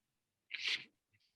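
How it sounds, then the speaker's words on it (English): A single sharp sneeze, close and fairly loud, followed by a faint short exhale in otherwise quiet surroundings. "excuse me, I'm going to sneeze"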